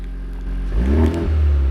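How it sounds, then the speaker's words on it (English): A car engine, started and revved remotely from the key fob, idles with a low rumble, then climbs in a quick rev and settles back to a steady, close hum. "If you want to show people what it sounds like, this revving engine, without actually being in the car, you can use it with your fob here."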